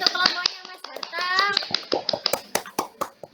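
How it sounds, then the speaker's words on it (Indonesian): Classroom applause for the winning presentation group during a peer-teaching session, with scattered claps and taps sounding alongside children's chatter and an adult voice, growing into sharper, denser clapping toward the end. "Tepuk tangan untuk kelompoknya Mas Harta"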